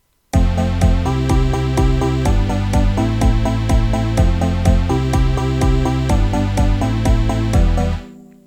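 An electronic music loop made in FL Studio 11 plays dry with a steady kick drum and deep synth bass under bright repeating synth notes, loud and alone before stopping abruptly.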